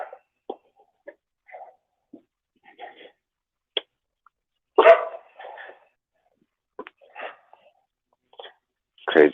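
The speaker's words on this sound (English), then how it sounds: "What are you barking at?" Dogs bark intermittently at the neighbor's dogs on a rainy morning outdoors, a scattered run of short, moderately loud barks and yips with gaps of quiet between them, with a louder burst midway and another at the end.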